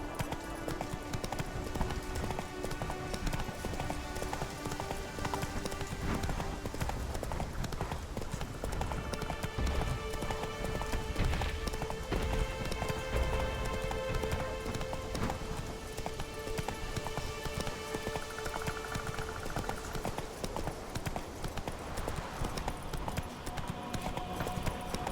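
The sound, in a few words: horse Roach galloping, hooves clip-clopping, in The Witcher 3 video game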